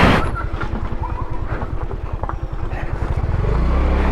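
A motorcycle pulling into a parking area at a nature park, its engine loud and close with a rapid, even putter that settles into a smoother idle near the end.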